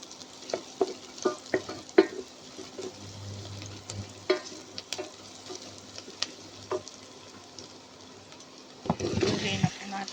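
Garlic and onion sautéing in a pan for beef kaldereta, a low continuous sizzle punctuated by sharp stirring clacks of a utensil, with someone talking intermittently nearby.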